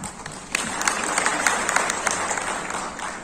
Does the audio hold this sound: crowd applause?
yes